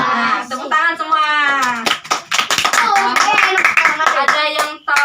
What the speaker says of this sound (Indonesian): Nah, tepuk tangan semua.